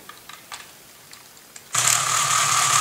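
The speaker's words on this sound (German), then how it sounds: "Er kann hier den Motor anmachen und ausmachen." A LEGO Technic 42080 forest machine's motor switches on partway through after a few faint clicks, then runs as a steady, loud whirring buzz close by with no talk.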